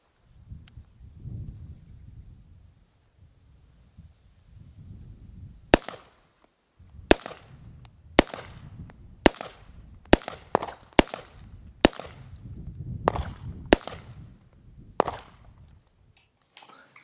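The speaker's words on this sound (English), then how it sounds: "So we'll take it out to the range and shoot a few rounds and see what you guys think." A Sig Sauer M400 Enhanced rifle fired at an outdoor range, about ten sharp loud shots at irregular intervals of roughly one second, with low background rumble between them.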